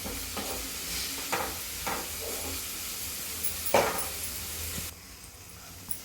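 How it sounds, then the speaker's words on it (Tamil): Tomatoes sautéing in a pan for a bitter gourd stir-fry give off a soft, steady hiss, with a few short scraping bursts from stirring; the sound is fairly quiet and has no talk over it. "தக்காளி எல்லாம் நல்லா வதங்கிடுச்சுமா"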